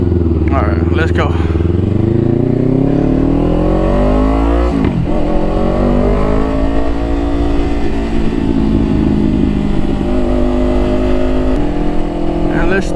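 A Kawasaki Ninja 500 motorcycle accelerates hard, its engine note climbing steadily through the gears with loud, continuous wind rush and a brief shift dip midway. A rider talks over the engine noise.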